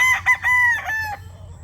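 A young stag rooster crows once, loud and close, a full cock-a-doodle-doo of several rising and falling notes that trails off, with a low steady hum underneath.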